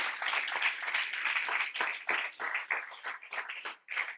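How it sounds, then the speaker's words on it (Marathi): Seminar audience clapping for a guest being introduced, a fairly close, uneven patter of individual claps that thins into sparser bursts toward the end. "जोरदार टाळ्या याच्यासाठी"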